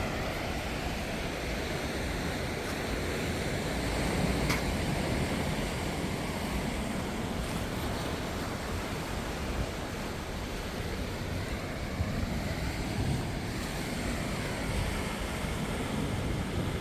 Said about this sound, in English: here's the beach, the sea